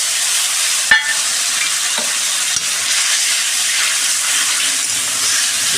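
Spice paste sizzles steadily in a hot pan as it is stirred with a splash of hot water, giving an even, close frying hiss with a couple of faint scraping taps.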